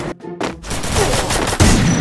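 Rapid gunfire in a 4v4 online shooter match, with a short burst followed by a dense, loud, sustained volley of shots that continues without letup to the end.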